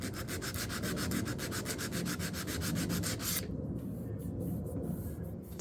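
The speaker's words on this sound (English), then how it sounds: "This table also needed some detail sanding." Detail sanding on a wooden Ethan Allen Classic Manor table with a sander, a steady close rubbing whir with rapid rhythmic pulses that cuts off partway, leaving quieter hand-rubbing strokes.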